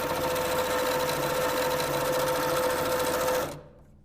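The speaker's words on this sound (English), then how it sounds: "now I'm going to sew it together" A sewing machine stitches the seams of an American flag quilt block, running as a loud, steady mechanical whir close by for several seconds before stopping abruptly.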